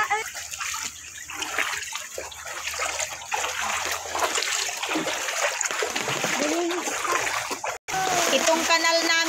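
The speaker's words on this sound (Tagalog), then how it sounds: "itong kanal namin guys, nagmistulan ng maliit na batis." Floodwater rushes through a flooded drainage canal that has turned into a small stream heading toward rice paddies during a storm. The flow is a steady, close broadband rush and splash throughout, with talk in the background.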